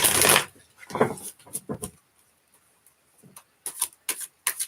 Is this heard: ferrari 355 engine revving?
no